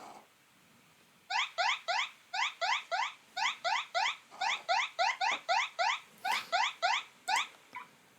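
Sonoff iHost smart home hub sounding its security alarm in away mode: a loud, rapid electronic chirping siren in repeated short bursts, about a dozen pulses in quick rhythm, close and alone with no talk.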